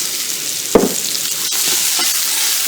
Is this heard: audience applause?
no